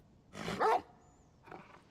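A dog named Torgal in the Final Fantasy XVI video game gives two short barks, the first louder and the second softer, with a faint high tone between them.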